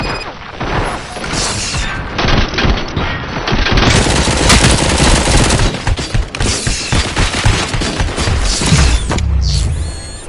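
Sustained heavy gunfire in RoboCop: Rogue City, dense rapid bursts of automatic weapons and impacts filling the scene loudly for most of the stretch, easing off near the end.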